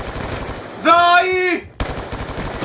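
Rapid gunfire from the Black Ops 2 first-person shooter, dense and loud, interrupted by a brief sustained tonal game sound before the shooting resumes.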